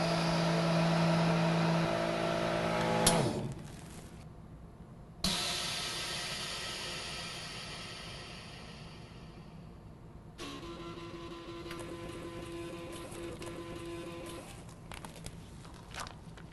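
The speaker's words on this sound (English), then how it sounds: "As I close down the vacuum machine now," A MINIPACK vacuum sealer machine closes and seals a bag of sauce, starting with a loud pump roar, then a sharp clunk, a hissing rush of air and a steadier mechanical hum with soft clicks.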